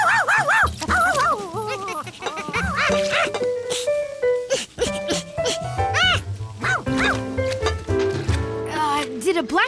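A cartoon dog in Curious George barks and yips in quick, loud bursts with whimpering pitch swoops, over lively music and character voices.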